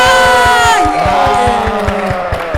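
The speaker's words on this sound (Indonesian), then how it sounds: "Tepuk tangannya dong, tepuk tangannya." A loud crowd at an event opening cheers and shouts with sustained voices over steady rhythmic clapping, close and energetic throughout.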